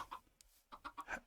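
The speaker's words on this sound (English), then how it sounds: "So now we got a couple chickens walking around" Chickens in the Minecraft video game giving a few short, quiet clucks in quick succession, soft and brief with no talk.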